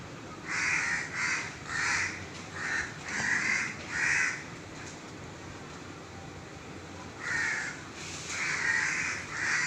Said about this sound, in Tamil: இந்த காக்கா வந்து பார்த்திங்கன்னா தொடர்ந்து விடாமல் வந்து கத்துது துரத்துது